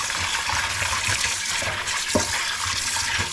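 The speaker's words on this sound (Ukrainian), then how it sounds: "Можна отак закрити раковину, щоб набралась вода" Steady running water pours into a plugged sink basin to rinse fish, a continuous close gushing hiss with a small splash partway through.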